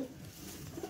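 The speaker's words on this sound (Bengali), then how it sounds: "এটা নর কবুতর" A male Rajshahi Giribaz pigeon coos softly nearby, a short low throaty call rising twice over quiet background noise.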